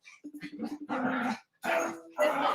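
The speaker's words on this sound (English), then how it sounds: "I got 3 little dogs. They'll fight all day. That's them you hear." Three small dogs bark, yip and growl at each other in short, choppy bursts, close by and fairly loud, with a scuffle of snarls between the barks.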